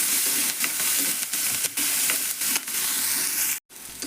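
Chopped onions frying in oil for a North Karnataka radish curry, a steady close sizzle and crackle with occasional stirring clatters and a sharp knock near the end.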